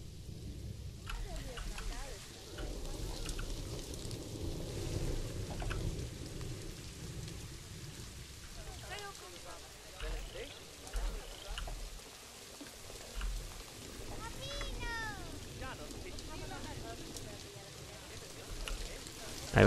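Rain falls in the Planet Zoo video game as a steady wash across the whole stretch, with occasional low rumbles, while game music and small chirps play faintly above it.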